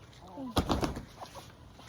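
An Americana hen, a somewhat feral one, gives a few soft rising clucks and chirps close by, then a brief louder burst of sound with a person talking softly nearby.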